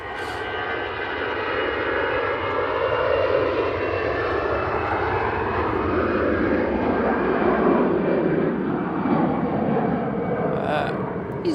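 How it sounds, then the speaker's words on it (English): EasyJet Airbus A320 jet taking off from Manchester Airport for Prague, a loud, close engine roar with shifting whine that peaks midway and slowly fades, with no talk over it. "EasyJet A320 off to Prague."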